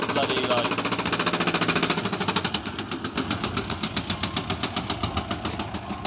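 A high-mileage Jaguar F-Pace engine runs with a harsh, fast mechanical rattle like a pneumatic tool, a steady rhythmic clatter that grows more pulsed as it settles, close and moderately loud.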